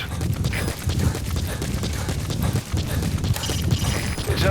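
Horse hooves clip-clop in Metal Gear Solid V: The Phantom Pain, a steady rhythmic trot of close, repeated thuds that runs through the whole stretch with no speech.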